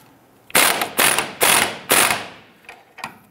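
Ratchet wrench clicking as it spins off the 18 mm nut on a sway bar end link at the lower control arm of a 2002-2008 Dodge Ram 1500, four loud close bursts of rapid ratcheting followed by two fainter short clicks.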